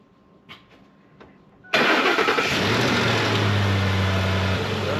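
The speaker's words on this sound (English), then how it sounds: "so I gotta start the rig" A truck engine cranks and catches after a few quiet clicks and knocks, then settles into a loud, steady rumbling idle close by.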